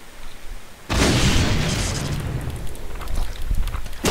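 A grenade explodes in the video game Doom 2, a sudden loud boom that breaks into a long, rumbling, crackling roar, followed by a fresh burst near the end.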